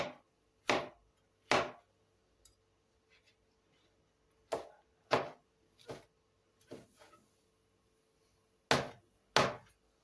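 A knife chops mushrooms very finely on a cutting board in sharp, separate thuds, mostly in pairs with brief gaps and a few softer taps between, close and clear in a quiet kitchen.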